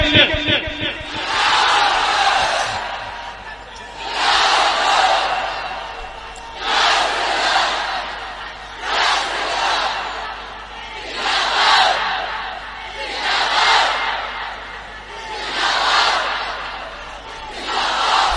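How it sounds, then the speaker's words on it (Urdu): A large crowd shouts in unison, repeated rhythmic bursts of massed voices roughly every two and a half seconds, loud and echoing. "میں چاہتا ہوں کہ بیچ سے کوئی ایک آدمی کھڑا ہو جائے اور ایک نعرہ بلند کرے"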